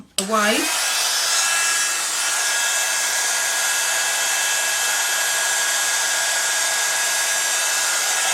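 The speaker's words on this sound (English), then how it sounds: "Just put the heat gun on it." A heat gun blowing hot air over a paper craft card: after a brief click and rising whirr at start-up, it gives a steady, close, hissing airflow that holds for several seconds.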